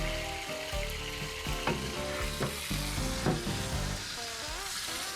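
Chicken leg quarters sizzling skin-side down in their own juices in a pan inside a Gozney pizza oven, a constant crackling fry with sharp pops, no voices.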